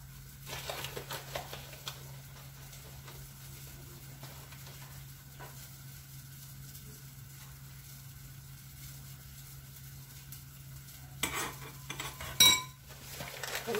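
A spoon stirs half a cup of milk with a small spoonful of cornstarch. Mostly quiet, then a few light clinks and scrapes against the container near the end.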